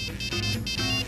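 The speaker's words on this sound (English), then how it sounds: "His phone's still ringing." A mobile phone ringtone keeps ringing during a rap performance at a comedy show, a steady repeating electronic melody that is fairly loud and continuous, with no talk over it.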